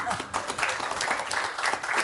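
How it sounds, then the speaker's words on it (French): Lecture audience applauding at a conference hall: a fairly loud wash of clapping that holds steady throughout, with some faint voices mixed in underneath. "Donc ces applaudissements s'adressent au GREP, mais ils s'adressent aussi et surtout à notre conférencier."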